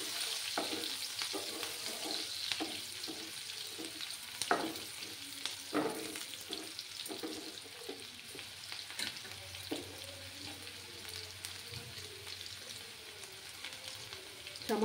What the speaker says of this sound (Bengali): এবার আমি পেঁয়াজগুলোকে একটু লাল করে ভেজে নেব।